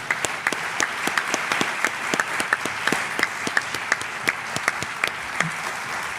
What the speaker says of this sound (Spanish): Por favor, un fuerte aplauso para Nando Domínguez y Miguel Ángel Moyano